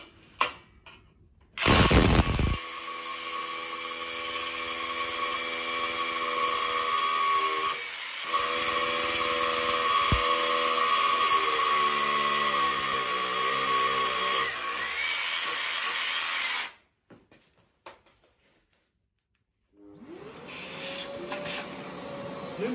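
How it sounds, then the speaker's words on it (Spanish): A Festool BHC 18 cordless hammer drill bores into hard concrete in long, loud, rattling bursts with a bright whine, broken by brief pauses. The drilling ends near the close, followed by silence and a short final whir. "os quiero enseñar ahora con otra broca la fijación del perfil en el hormigón duro"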